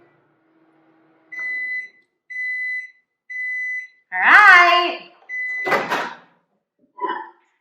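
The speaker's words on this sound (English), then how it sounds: "Back in the microwave with you." A steady electronic hum sounds in three even bursts, then a short spoken phrase, another burst of hum, and a clatter.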